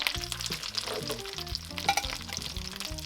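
Steady crackling sizzle of crumbed chicken frying in hot oil, close and continuous, with occasional scraping stirs and low clunks.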